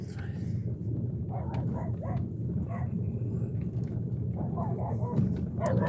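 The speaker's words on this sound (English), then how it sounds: "You can hear the puppies." Puppies in a rural setting in Querétaro, Mexico bark and yip in short bursts at a distance, faint beneath a person talking over a steady background hum.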